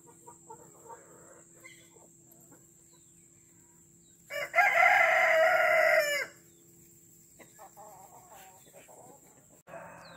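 A backyard flock of roosters and chickens, with one loud, close rooster crow lasting about two seconds. Faint clucking and soft background noise fill the stretches before and after.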